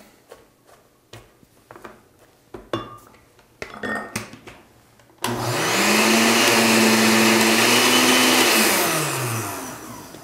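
A loud stick blender whirs steadily for several seconds while puréeing chopped red onion, its motor pitch dipping slightly as it works, after some clattering kitchen taps and knocks.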